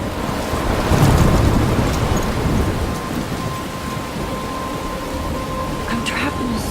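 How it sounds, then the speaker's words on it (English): A thunderstorm in the video game Life Is Strange: steady heavy rain with low rolling thunder, loud and continuous, with a voice speaking over it. "I'm trapped in a storm?"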